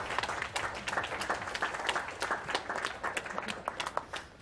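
An audience at the AGDQ 2014 speedrun event applauds steadily, many hands clapping in a dense, continuous patter that holds for several seconds.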